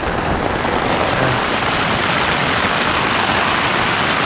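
Heavy rain drums loudly and continuously on a tent overhead at a campground in Mae Taeng, Chiang Mai, a dense unbroken patter with no pauses.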